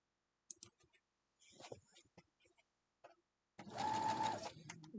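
A sewing machine stitches a quilt block in a short steady whir near the end, after some scattered clicks and handling noises.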